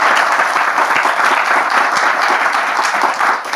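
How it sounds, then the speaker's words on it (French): Studio audience applauding on a French talk show, a dense, steady wash of clapping that holds loud and even throughout, with no voices on top. "On peut l'applaudir quand même."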